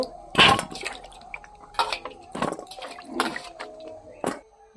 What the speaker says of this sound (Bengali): আমি এখন এই সবজিগুলো ধুয়ে নেব